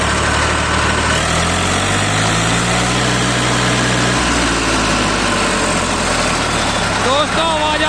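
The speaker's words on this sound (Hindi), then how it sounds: "आयसर की आवाज़ बहुत फेमस होती है इनमें, तीन सिलेंडर जो ट्रैक्टर होते हैं" A three-cylinder Eicher 380 tractor engine rumbles loudly nearby, its pitch climbing as it revs up and then holding at a steady drone, with faint voices underneath.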